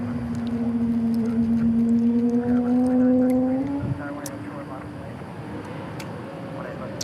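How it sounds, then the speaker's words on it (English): A Frontier airliner with new Pratt & Whitney engines at DFW airport gives a steady, loud engine drone with a rising whine, which then drops away to a fainter rumble, and a person speaks over it. "those sound like some new Pratt & Whitney engines from Frontier with the Cardinal"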